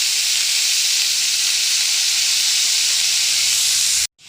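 Chow mein noodles hit a pan of frying vegetables with a loud, steady hiss of sizzling that holds evenly before cutting off abruptly near the end.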